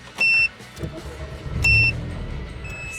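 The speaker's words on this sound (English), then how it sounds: "It's the alarm." An Audi's alarm gives short, loud electronic beeps in a repeating pattern, each with a brief thump, inside a quiet garage.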